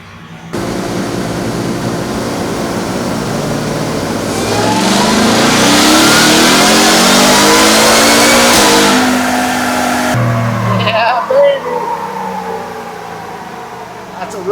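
A Ford Raptor R engine on a dyno, running new boost, sweeps up through a full-throttle pull, rising in pitch and volume to a loud peak before cutting off abruptly and settling, with a voice talking quietly afterward.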